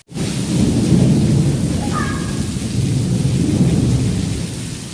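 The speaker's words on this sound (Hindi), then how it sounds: "चलिए शुक्र है कि बारिश आ रही है" Heavy rain roars steadily throughout, with deep rumbling thunder rolling underneath and a brief faint tone midway.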